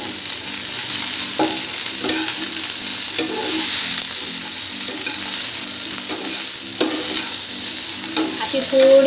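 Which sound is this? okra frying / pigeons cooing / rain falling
okra frying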